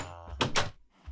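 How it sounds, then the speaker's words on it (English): Wooden door in Minecraft opening and closing: two quick, fairly loud knocking clacks in close succession, followed by quiet. "The first change you might notice is doors now sound slightly different."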